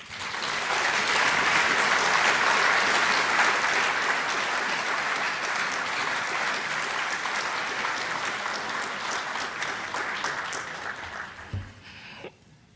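An audience applauds steadily in a lecture hall as Dr. Larry Arnn is welcomed to the stage, sustained clapping that holds strong for about ten seconds before tapering off and ending abruptly.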